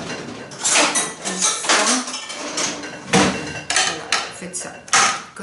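A spoon handle scraping and knocking against a kitchen utensil to clean it, a series of uneven metallic scrapes and clinks, close and fairly loud, with a voice talking over some of it.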